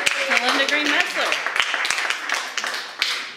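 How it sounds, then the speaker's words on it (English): Audience applause welcomes watercolor figure painter Linda Green Metzler to a Northside demonstration: a brief, dense patter of clapping with a voice sounding over it. "let's give a warm round of applause and a great Northside welcome to Linda Green Metzler"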